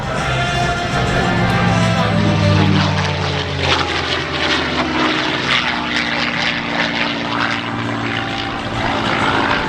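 A beautifully restored vintage propeller aircraft flies past at an airshow, its loud droning engine and propeller roar swelling as it nears, then holding a steady hum as it moves on, with no speech.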